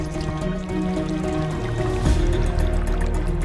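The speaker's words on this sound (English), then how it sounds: "a rectangular spout directs a measured jet into a stone basin" Water from a rectangular Inca stone spout at Machu Picchu falls as a steady jet into a stone basin, a continuous close splashing trickle with no voices.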